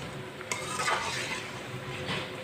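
Pakoras frying in hot oil bubble and sizzle in a steady, moderately quiet hiss, with a single light clink of a utensil against the pan early on.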